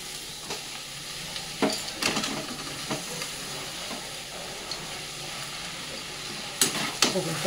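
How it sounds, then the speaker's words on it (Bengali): Chow mein noodles being stirred and fried with vegetables in a pan, a soft running sizzle broken by sharp scraping and clattering strokes of the utensil at irregular intervals, close by. "চাউমিনটা কিন্তু সবজির সাথে ভালো করে মিশিয়ে নিয়েছি"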